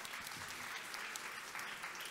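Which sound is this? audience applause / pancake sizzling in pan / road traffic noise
audience applause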